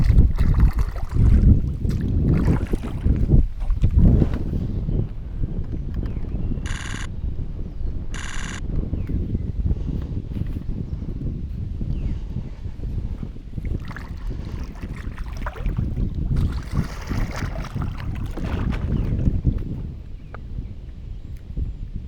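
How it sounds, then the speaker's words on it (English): Strong wind buffets the microphone outdoors, a loud continuous low rumble with gusts rising and falling throughout, plus a couple of brief electronic beeps partway through. "This wind is brutal."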